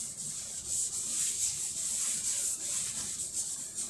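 A small electronic thermistor is rubbed in a steady, continuous scratchy friction sound, close and fairly loud, with gentle swells throughout and no talking.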